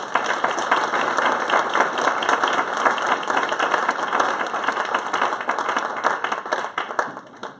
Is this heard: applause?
yes